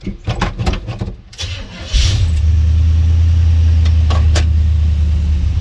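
A 1978 Chevrolet Scottsdale truck cranks over and fires up, then settles into a steady, loud, close idle with a low rumble after a brief burst of cranking and rattling.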